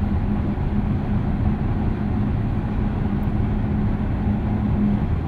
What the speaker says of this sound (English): little bit of reverberation sounds from the tires here at speed